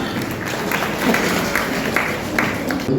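Audience applause at a Jain religious quiz game show during Daslakshan Parv, a steady burst of many hands clapping together that fills the whole moment without any speech.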